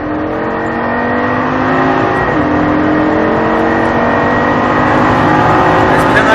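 A Lamborghini LP 560 accelerating on a track, its engine note a loud, close, steady drone that climbs in pitch with a brief dip and recovery partway through.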